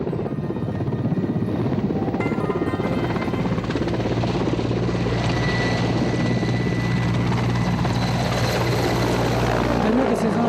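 A subsidised service helicopter at the Stingri helipad near Keylong in the Lahaul valley thunders loudly and close, its rotor chop and turbine whine continuous and unbroken throughout.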